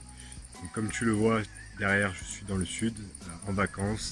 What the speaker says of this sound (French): tu dois entendre les cigales chanter